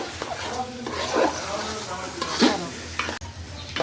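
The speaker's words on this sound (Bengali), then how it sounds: "আমি চালগুলো একটু ভাজিয়ে দিচ্ছি।" Polao rice grains sizzling in hot oil while a utensil scrapes and stirs through them in a pan, with bursts of louder scraping.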